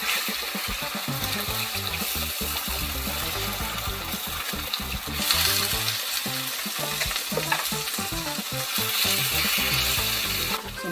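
Three eggs fry in a pan with a seasoning cube, giving a loud, continuous sizzle and crackle with steady spitting throughout.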